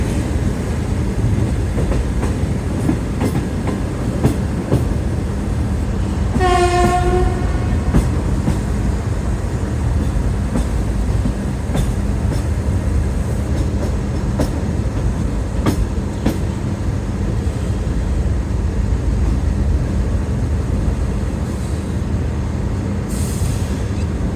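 The Pak Business Express passenger train rolls slowly through a station in foggy winter weather, with a steady close rumble of wheels on track, scattered clicks and clanks, and a brief horn-like tone partway through.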